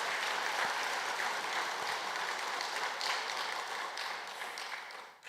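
Congregation applauding at Samyang Jeil Church during a Sunday worship service after the choir sings, a dense, steady wash of clapping from many hands that holds loud for about five seconds before tapering off.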